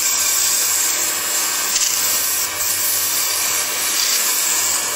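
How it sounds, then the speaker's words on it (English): Steady, close rubbing and sanding hiss against a wooden acorn spinning on a lathe, continuous and fairly loud with a faint low motor hum underneath. "we can do a little bit of sanding on that"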